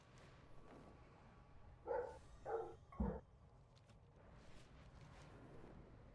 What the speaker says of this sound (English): Who is the doggo barking?